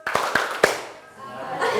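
A class claps in rhythm on the teacher's cue, with four quick, sharp claps close together. A voice follows right after them.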